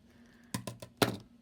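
Scissors snip frayed satiny ribbon trim on a doll's dress, giving three or four sharp, close clicks in quick succession, the last one loudest, with quiet room tone between and no talking.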